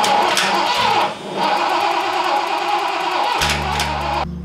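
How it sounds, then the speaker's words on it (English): A Ford GT40 engine fitted in a Fox Body Mustang cranks over loudly with a rapid rhythmic starter churn that stumbles and continues, then drops to a low idle-like hum near the end without firing cleanly. "I don't want to keep cranking on her."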